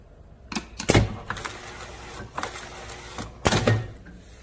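A semi-automatic round-bottle labeling machine running a double-label test gives off a few sharp mechanical clacks and thumps at irregular spacing, close up and fairly loud, with quieter handling knocks in between and no talk.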